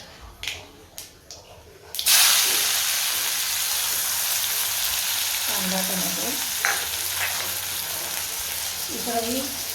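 Onion and tomato sautéing for okra masala burst into a loud, close sizzle after a few soft knocks, then hiss steadily with brief murmured voice fragments over it.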